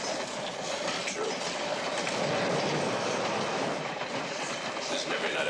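Train rolling along rails at night, with a steady, loud rumble and rattling clatter filling the whole stretch, continuous and close, as if heard from inside a moving car.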